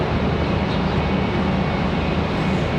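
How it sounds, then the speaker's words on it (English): An American Airlines airliner departing Charlotte Douglas airport, a loud, steady broadband engine roar that fills the whole moment without letting up. "That one's headed off to Nashville, American Airlines 2750"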